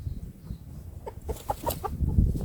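A hen gives a short series of soft, close clucks over a low background rumble, with no talking.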